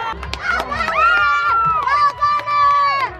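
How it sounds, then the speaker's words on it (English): Spectators at a youth football game cheer and shout loudly and close by, with a drawn-out high whoop running over the noise of the crowd. "Cheering."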